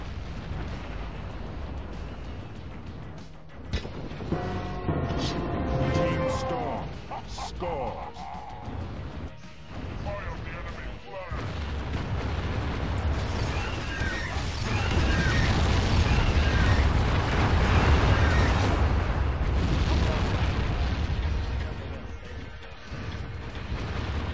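Missile explosions in the video game Tribes Aerial Assault, repeated heavy booms and rumbling blasts, loud and close, merging into a sustained roar with battle noise in between.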